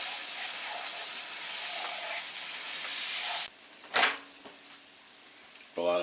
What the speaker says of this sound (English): gotta let this roux cook until it turns brown, which takes a couple minutes